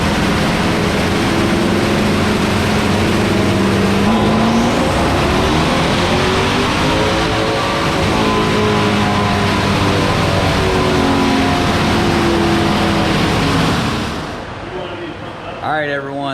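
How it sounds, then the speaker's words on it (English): A twin-turbo 5.7 R/T-based 397 stroker engine roars steadily on a dyno pull, a loud sustained drone with rising and falling harmonics for about fourteen seconds before cutting off abruptly. "We're gonna take a timeout and we'll come back with some dyno pulls."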